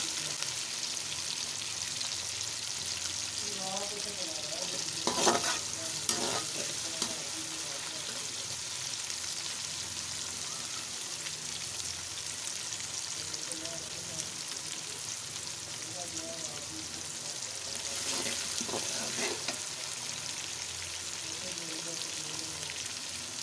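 Chopped tomatoes and green chillies sizzle in hot oil in a pan for fish curry, a steady close frying hiss with a couple of louder stirring bursts, and faint speech in the background.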